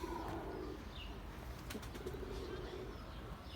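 Mardin pigeons in their coop give soft, low cooing with brief wing flutters, moderately close, over a steady background hum.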